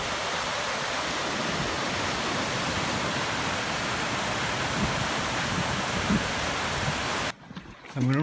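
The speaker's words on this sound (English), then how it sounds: "we're at the one of the first smallest waterfalls" A small waterfall on a river close to the sea pours with a steady, dense rushing roar that stays constant for about seven seconds, then cuts out abruptly near the end.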